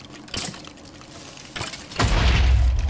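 An explosion in the video game Minecraft: two sharp blasts go off, then a heavier boom rolls into a sustained low rumble that lasts to the end.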